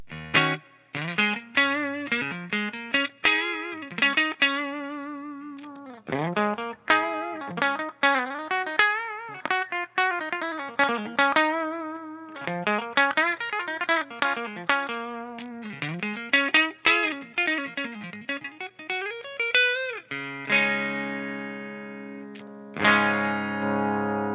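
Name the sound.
electric guitar single coil pickup through effects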